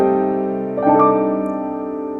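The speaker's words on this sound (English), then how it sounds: "And that's the sound of the melodic minor." A melodic minor mode sounded out as sustained, harmonically rich tones that stack into a held chord, with a fresh group of notes entering just before the first second and ringing steadily to the end.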